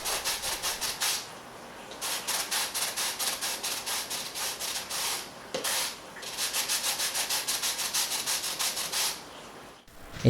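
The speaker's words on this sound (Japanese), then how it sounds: "サンドペーパーで軽く表面を整えておきます。" Sandpaper worked lightly over the surface of a PVC pipe for a home-built overflow aquarium plumbing setup, a close, loud rhythmic rasp of quick back-and-forth strokes in two runs separated by a short pause.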